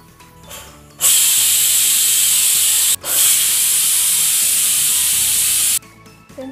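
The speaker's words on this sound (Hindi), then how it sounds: "2 सीटी आने तक हमें कुकर को बंद रखना है।" A pressure cooker of oats and moong dal khichdi hissing loudly as it releases steam, one long steady blast that breaks off briefly and then resumes before stopping, close and alone with no talking.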